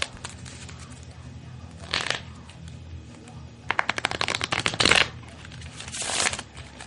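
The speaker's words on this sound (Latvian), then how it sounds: "Es varam iedot samaisīt kārtas" Playing cards being shuffled by hand before a card trick, heard as a few short crisp riffling bursts separated by quieter room noise, close to the microphone with no talking.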